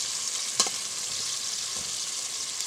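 Garlic sizzling steadily in oil in a pan for bitter melon with egg, a constant hissing fry with a couple of brief clinks of a utensil, close and alone with no talking.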